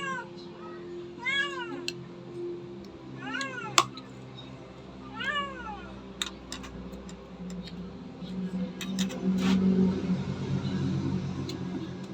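A cat meows several times in short rising-falling cries, moderately close, over a low background hum and faint ticking.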